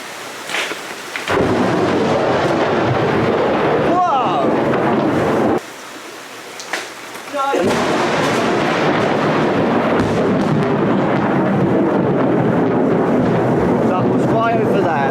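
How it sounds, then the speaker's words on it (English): Close lightning over central Florida brings loud, crackling thunder that rolls and rumbles through the storm, with rain pouring steadily and a brief lull partway through. "Close lightning in central Florida."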